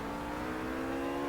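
Race car engine in Project CARS on a track with gravel traps, a steady loud droning whine held throughout without any talk.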